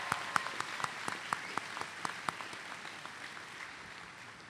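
An audience at a graduation ceremony applauds, a dense roomful of clapping with a few sharper close claps, fading gradually toward the end.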